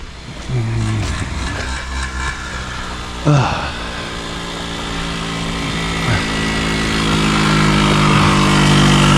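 A motorcycle engine idles and revs close by with a rough, uneven note and a sharp blip partway through, then runs on steadily and grows slightly louder toward the end.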